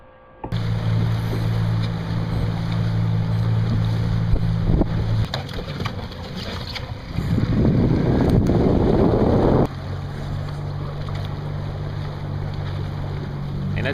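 A sailboat tacking in the wind, with steady wind buffeting the microphone and a continuous rush of water and hull noise; a low drone shifts midway as the boat comes about and the sails fill again.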